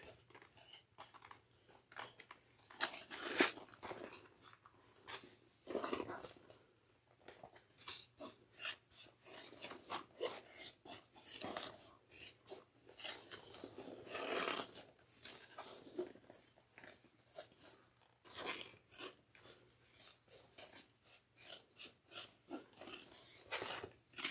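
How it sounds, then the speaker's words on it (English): Scissors trim the seam allowance on a fabric tote bag with foam interfacing, giving a quiet, close run of repeated snipping and rasping cuts with brief pauses between them. "Now we're going to trim this down to 1/4 of an inch."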